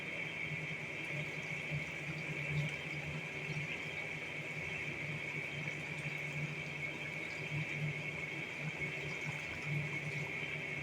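Homemade peach wine pours steadily into a jug, a continuous, even trickle and gurgle of liquid heard close up and on its own.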